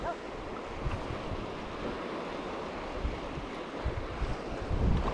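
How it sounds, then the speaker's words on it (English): Ocean waves and surf wash continuously around a redfish fishing boat, with steady wind buffeting the microphone and occasional louder surges. "These waves are freaking annoying."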